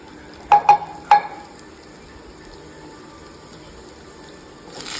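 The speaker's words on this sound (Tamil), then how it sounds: "பேனில் எண்ணெய் ஊற்றிக்கோங்க வந்துருச்சு கொஞ்சம் கடுகு போடுறோம் அதுக்கப்புறம் அது கூட வந்து கடலைப்பருப்பும் உளுந்தும்" Mustard seeds, chana dal and urad dal go into hot oil in a pan, giving three sharp, close pops in quick succession before a faint, quiet sizzle settles in.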